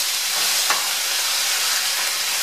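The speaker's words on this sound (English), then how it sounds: "Let's make sure that you keep moving the meat around the pan." Beef strips being stir-fried in a pan, a loud continuous sizzling hiss that holds steady throughout, with faint scraping as the meat is moved around.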